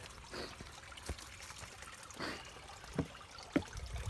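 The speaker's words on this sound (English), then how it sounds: "Just over the little creek here." Soft, steady trickling of a small stream of water, fairly close, with a few light knocks and taps scattered over the flow.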